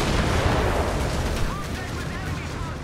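A Panzerfaust fires at a Chaffee tank in the Company of Heroes 3 video game. The blast comes through as a loud, sustained rumbling roar of battle noise that stays dense and heavy, easing only slightly toward the end.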